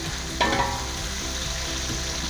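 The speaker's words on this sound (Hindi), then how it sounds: "इसको थोड़ी देर भूनेंगे।" Tomatoes fry in a hot pan for chana pulao, giving a steady, close sizzle with a brief louder burst of crackling near the start and a low rhythmic background rumble, no voices.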